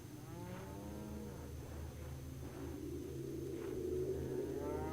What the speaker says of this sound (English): The cows are mooing, Ilisara.